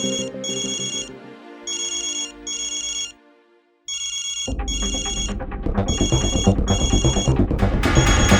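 A telephone rings in repeated electronic bursts with short gaps, then a loud, busy stretch of sound takes over while the ringing continues, with no talk.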